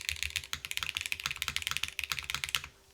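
Fast, close typing on an Orbit R2 mechanical keyboard, a dense run of crisp clacky keystrokes that stops briefly near the end.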